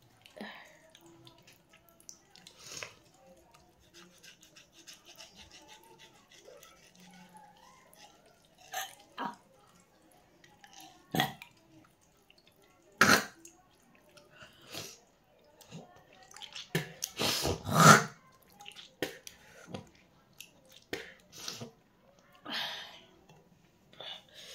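Someone scraping their tongue clean, with scattered gagging and retching bursts that cluster and grow stronger toward the end, plus wet mouth noises between quiet gaps.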